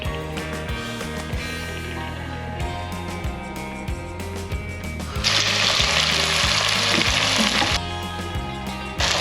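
Oil sizzling in a very hot pan while making vegan chilli, a steady hiss that swells louder midway over a repeating rhythmic background beat, with no talking.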